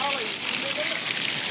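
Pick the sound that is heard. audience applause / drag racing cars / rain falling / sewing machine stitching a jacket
rain falling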